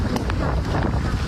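Typhoon-driven waves from Typhoon Krathon surge at a fishing harbor on Xiaoliuqiu, Taiwan, amid strong wind, a loud dense roar of water with heavy wind buffeting the microphone and brief splashing surges.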